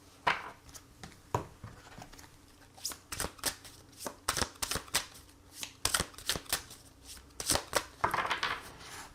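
Tarot cards being shuffled by hand, a steady run of crisp riffling snaps and soft slaps, close and clear, with quiet pauses between bursts.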